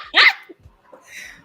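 A dog gives one loud, sharp bark up close, followed by softer huffs and breathy noises from the animal, with no talking.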